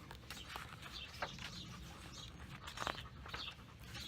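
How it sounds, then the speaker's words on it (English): Backyard birds chirp and call faintly in the distance against a soft outdoor background, with a few brief louder chirps. "you can hear a lot of birds in the background."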